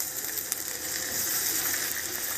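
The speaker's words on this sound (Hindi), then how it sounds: "तो ये हम पानी का हल्का सा छींटा देंगे" A light splash of water sizzles over sweet potatoes roasting in a hot pan, making a steady, dense hiss with a faint crackle that stays close and fairly loud throughout, with no talking.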